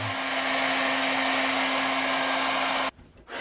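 A heat gun blows air in a loud, steady whoosh with a faint hum, then cuts off abruptly near the end, leaving near silence.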